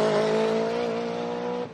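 A 2003 Subaru WRX STI with a flat-four 2.5-litre boxer turbo engine and manual transmission drones loudly at a steady pitch, then drops off abruptly at the end.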